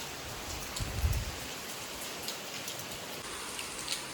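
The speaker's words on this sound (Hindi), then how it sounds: "बाहर ना बारिश के साथ साथ हवा भी चल रही है" Steady rain falls outside with wind, a continuous even hiss of drops on surfaces with a brief low gust rumble early on, no voices.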